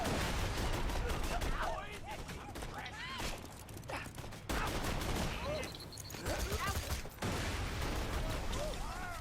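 Heavy cannon-style assault rifle shots boom in Borderlands 2 combat, firing in loud clustered bursts with brief pauses between, while someone talks over the shooting.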